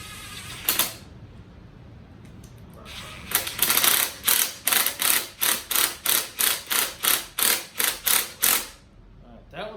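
Bolts being tightened in a crisscross torque sequence from the center out, heard as a run of about eleven evenly spaced, sharp ratcheting clicks, close and loud, following a couple of earlier isolated clicks.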